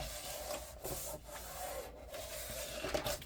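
Paper scrap album pieces with half-inch folds being burnished flat, a steady close rubbing and scraping with short pauses, no voices.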